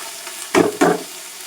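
Chana dal, peas and peanuts frying with spices in a pan, stirred in two distinct close scraping, sizzling strokes over a soft steady sizzle.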